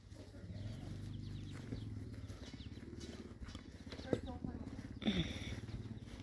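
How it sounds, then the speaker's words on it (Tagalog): A large horse's hooves clip-clop in a steady close rhythm, with faint bird calls and people talking nearby. "Ayun, kabayo na malaki."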